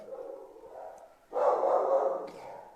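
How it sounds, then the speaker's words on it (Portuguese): Dog barking inside a home, a few moderately loud barks carrying through the room, with a louder burst in the middle of the short stretch. "Acho que o cachorro tá latindo, não sei se está atrapalhando vocês"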